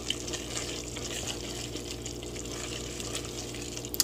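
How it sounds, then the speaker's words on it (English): A pot of food bubbles steadily on the stove while cooking, giving a continuous soft simmering and gurgling texture with faint clicks near the end. "just let that stir and bubble away"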